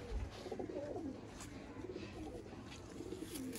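Pigeons in a breeder's loft, including a standard-size female, give soft repeated low coos across a steady murmur of other birds, close and fairly quiet.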